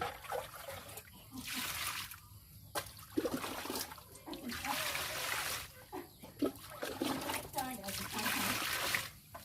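Water scooped and poured into a basin of soil while sowing vegetable seeds outdoors: repeated splashing and trickling pours, close and fairly steady, with someone talking over it and a voice nearby.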